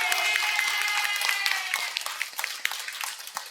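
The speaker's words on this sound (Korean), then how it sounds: "응답 받은 만큼 박수를 한번 올리세요." Church congregation applauding together in a lecture hall, a dense continuous wash of clapping that starts full and gradually thins into scattered claps toward the end, with no talk over it.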